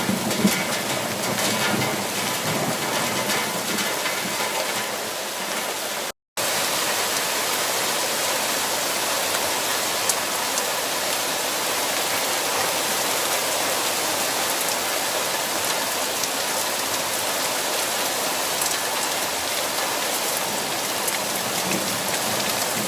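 Heavy rain pours down on a garden, a dense, continuous hiss of drops on leaves and surfaces, broken only by a momentary cut, with no voices.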